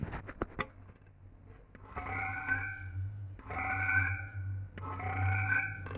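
An antique frequency meter gives off a quiet, steady low hum, with faint higher harmonic tones swelling in and out three times over a few seconds.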